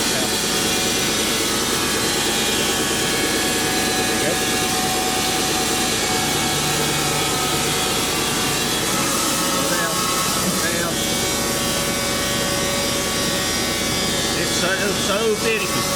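A sawmill blade runs in a steady, loud, unbroken whir with a constant engine drone underneath, while people talk over it.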